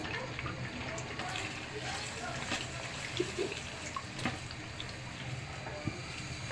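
Two eggs fry in oil in a pan with a soft, steady sizzle and scattered small pops, faint and continuous.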